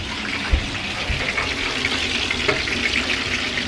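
Tap water rushes steadily into a pot being filled for boiling, a close, continuous hiss and splash with a couple of soft knocks near the start.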